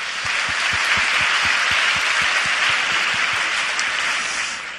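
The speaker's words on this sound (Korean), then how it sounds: "우리 이분들에게 격려의 박수 해주시기 바랍니다." A church congregation applauds in encouragement, a dense, steady wash of clapping that stays loud throughout and fades slightly at the end.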